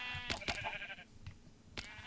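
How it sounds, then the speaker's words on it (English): Minecraft sheep let out a few short, close, wavering bleats one after another, with a brief pause before the last, heard alone without talking. "Oh, there's a lot of sheep."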